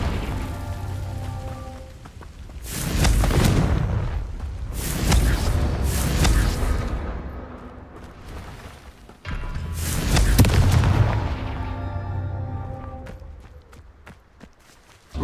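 Repeated fire spell blasts from Hogwarts Legacy, a video game: booming, crackling bursts arrive in waves, each swelling loud for a couple of seconds and then fading, with a steady rumbling game ambience underneath.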